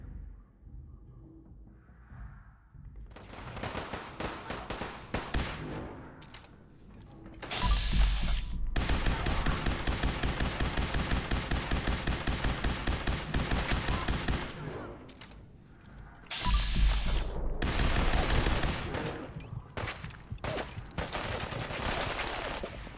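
Laser gun fire in Fallout 4 VR: long dense bursts of rapid, loud, mechanical shots, rattling in two extended volleys separated by quieter clicks and whirs, with no talking.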